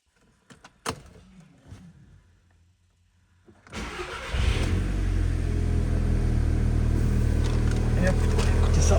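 A few clicks and a short whir, then a Volkswagen Golf GTI Edition 35 engine cranks and catches, settling into a loud, steady idle close to the listener.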